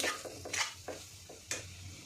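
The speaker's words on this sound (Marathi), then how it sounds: "आणि आता याच्यामध्ये हे ड्रायफ्रूट्स घालून घेऊया आणि याला पुन्हा एकदा असं मिक्स करून घेणार आहोत" Thick melted jaggery and dry fruit mixture being stirred in a pan for sweet modak filling, with a few close scraping strokes and soft sticky sounds over a low steady hum, no talking.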